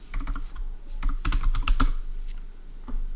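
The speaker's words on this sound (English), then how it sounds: "And I'm going to have you type materials" Typing on a computer keyboard: a quick irregular patter of close, crisp key clicks, a few clustered strokes, with no one speaking.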